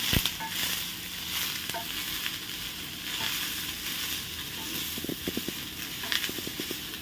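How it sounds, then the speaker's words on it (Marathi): Chopped onions fry in a pan for a Maharashtrian dubuk vadi dish, giving a steady close sizzle with scattered crackles and soft stirring clicks, no voices. "ह्याला छान असं भाजायचं आहे कांद्याला, जोपर्यंत तो लाल होत नाही तोपर्यंत"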